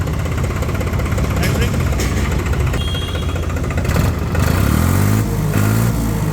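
A New Holland 3630 tractor engine runs steadily through its silencer, a continuous mid-low rumble that swells briefly toward the end, heard close and loud under ongoing talk.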